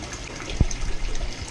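Water runs steadily during an aquarium water change, a moderate gushing wash with one brief low thump partway through and no talking.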